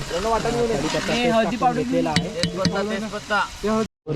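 Two kilograms of onions frying in a large pan for a mutton dish, steady sizzling with scraping stir strokes and a few knocks of the spoon, while people talk over it nearby.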